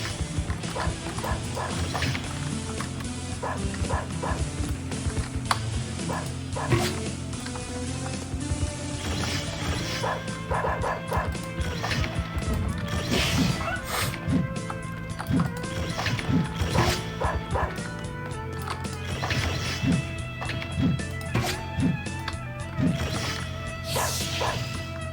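Robot stone dogs from the Mabinogi video game bark and yelp in repeated bursts with crashing hits, layered over a continuous busy game music and effects bed.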